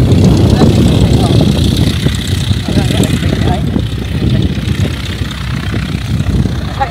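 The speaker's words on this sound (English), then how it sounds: "Don't ask me what kind of plane that is because I don't know." A propeller tow plane for a glider runs its engine at an airfield, a loud steady buzzing drone close by, with people talking over it.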